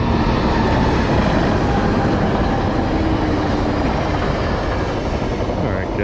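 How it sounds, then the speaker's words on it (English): A train rolls past a San Diego fishing spot, its loud, steady rumble and rail clatter filling the whole stretch at close range, with a person's voice heard over it. "The train goes by."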